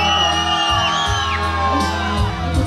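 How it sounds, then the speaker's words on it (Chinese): A concert audience at an evening gala in Anping screams and cheers loudly, with whoops and shouts rising in a sustained, dense roar of many voices close by. "尖叫声较大声"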